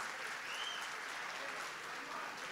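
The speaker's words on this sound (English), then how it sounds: "Can we have once again a round of applause for all of them?" A campus festival audience claps at length after a dance club's performance, a dense, steady wash of applause at moderate distance with a voice faintly mixed in.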